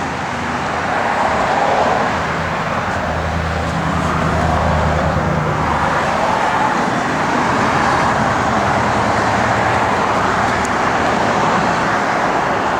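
A 1965 Pontiac Tempest with an X-pipe Pypes dual exhaust and chrome tips drives down the road, its engine a steady low rumble mixed with road noise, continuous and fairly loud throughout.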